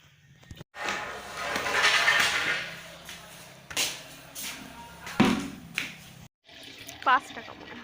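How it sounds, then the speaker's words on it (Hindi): Water runs into a container, filling for washing a blanket during household cleaning, a broad rushing sound that swells and fades over several seconds with brief clatters and pauses; someone talks over parts of it. "ब्लैंकेट को धोने के लिए सारी चीज़ें रेडी किया जा रहा है, पानी भर रही हैं"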